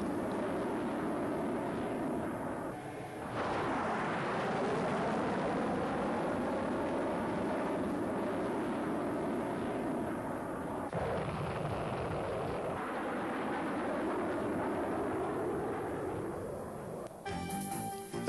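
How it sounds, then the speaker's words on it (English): Patriot missile test firing against an Army Lance missile in 1986, a long sustained roaring rumble of rocket launch and flight, loud and broad, swelling and fading over many seconds with a sharp cut near the end. "as shown in this 1986 test firing against an Army Lance missile"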